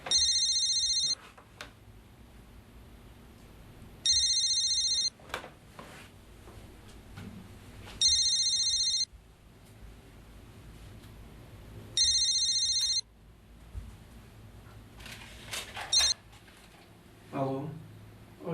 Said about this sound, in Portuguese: alô? Oi, dona Socorro